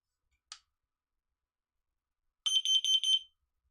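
Smoke detector after a battery change, one short chirp followed after a pause by a burst of four quick, piercing beeps in a quiet room.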